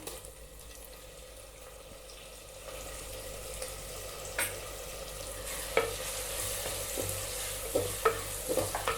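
Tomatoes sautéing with shallots in a pan for drumstick sambar give a low, steady sizzle, with occasional sharper clicks and scrapes of a stirring spoon that grow more frequent toward the end.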